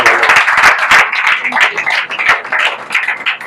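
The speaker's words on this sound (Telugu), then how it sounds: "చప్పట్లు కొడదాం అందరూ కూడా." A church congregation claps together in a dense, fast, uneven patter of many hands, loud and close throughout, with voices mixed faintly underneath.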